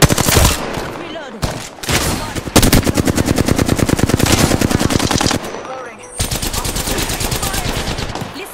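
Automatic gunfire from the video game Apex Legends: loud, rapid sustained bursts of shots with brief gaps between volleys, close and dominant.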